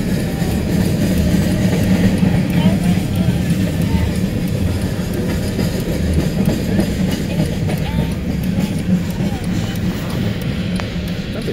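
A long CSX freight train rumbles steadily past close by in Brandon, Florida, wheels clattering continuously on the rails throughout.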